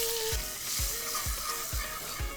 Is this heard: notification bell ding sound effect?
no